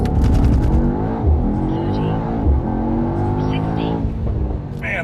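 Mercedes-Benz GT63S, a 630 hp car, accelerating hard from a race start, a loud sustained engine roar climbing through gears from inside the cabin, with people talking over it.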